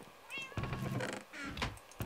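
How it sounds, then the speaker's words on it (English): Cats meowing in Minecraft, several short nearby meows in quick succession, fairly quiet. "Got lots of cats."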